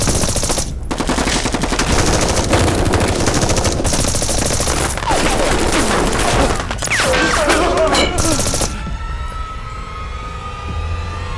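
Loud, sustained automatic gunfire from a staged military firefight in a Chinese action drama about a peacekeeping special forces unit, rapid bursts stacked densely for about nine seconds before cutting to a quieter, echoing tail.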